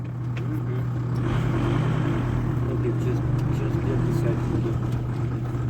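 A car drives into a farmyard and maneuvers to turn around, its engine a continuous low rumble close by and fairly loud, with no clear change in pace throughout.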